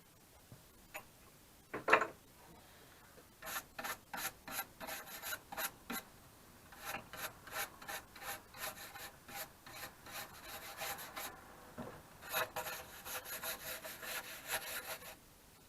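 Hand saw cutting through old recycled timber about fifty years old, with a steady series of rhythmic back-and-forth rasping strokes close by, pausing briefly midway before resuming, no talking.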